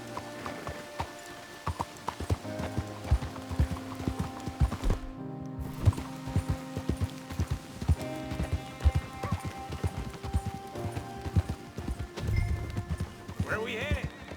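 Steady clip-clop of horse hooves at a trotting rhythm in the video game Red Dead Redemption 2, with people talking over it and a brief whinny near the middle.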